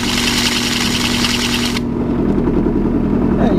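A radius grinder squares the inner edge of a ring, giving a loud, steady grinding whine up close that drops away partway through, leaving a lower hum.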